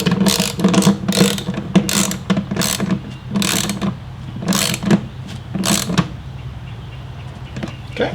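A socket wrench ratchets motorcycle saddlebag bolts tight on Viking saddlebag brackets, giving quick bursts of close, loud clicking that repeat in an uneven rhythm.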